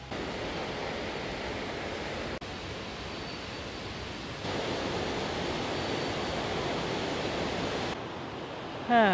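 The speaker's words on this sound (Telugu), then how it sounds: "I'm really, big fan of waterfalls. So most of the times I try to go to the waterfalls." Broad, steady roar of rushing water at a waterfall outdoors in the USA, loud and continuous with slight level shifts throughout, no talking over it.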